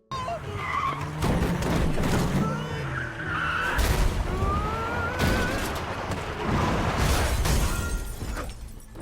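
Tires screech and skid as a truck chased by zombies crashes in the film Train to Busan: Peninsula. Loud impacts, crunching bangs and chaotic noise fill the scene, with siren-like whines in the background.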